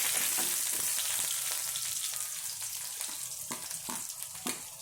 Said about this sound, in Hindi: थोड़ी देर भूनेंगे।